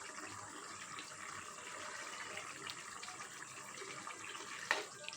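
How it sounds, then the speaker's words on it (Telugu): Water pours steadily into a cooking pot of egg masala curry in a soft, continuous stream, faint and close, with a small clink near the end. "దీంట్లో వాటర్ పోసాం కదండి"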